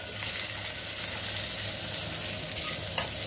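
Cut idli pieces are stirred into a sautéing pan, giving a continuous close sizzle with soft scraping and stirring clatter, alone without talk.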